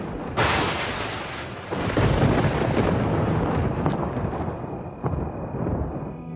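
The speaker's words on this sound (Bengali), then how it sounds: "ওরা ঠাকুর নিয়ে বাঁশবাগানের পথ পেরিয়ে মাঠের রাস্তা দিয়ে যাবার সময় জোরে একটা বাজ পড়ে।" A single loud thunder clap cracks out sharply, then rolls and rumbles heavily for several seconds before fading into a lower grumble, heard alone on a stormy night.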